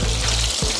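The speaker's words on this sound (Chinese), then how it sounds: "先炸这个金针菇来" Enoki mushrooms deep-fry in hot oil at home, with a steady, dense sizzle and bubbling that stays loud and close throughout.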